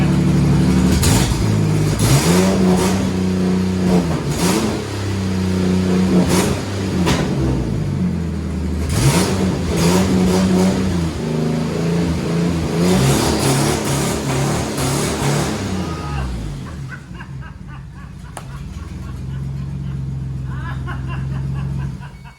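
A twin-turbo 1965 Mustang on nitrous is revved hard in a run of loud, throaty bursts with a rough, rumbling idle between them. Toward the end it settles into a lower, steadier drone.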